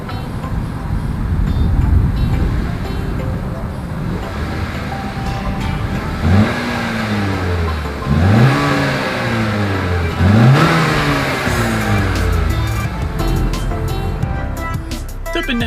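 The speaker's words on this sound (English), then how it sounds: "As always, here is that exhaust clip." A 2021 Honda Accord's exhaust note as the engine is revved repeatedly, three distinct rising revs over a steady idle, close and loud with no talk.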